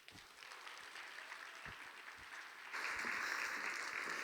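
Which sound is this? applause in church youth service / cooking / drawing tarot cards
applause in church youth service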